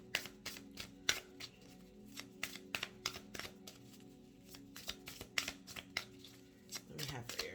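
Spirit Allies oracle cards riffled and shuffled in steady repeated flutters and snaps, close up, for a weekly Aries reading, with a low murmur of background hum.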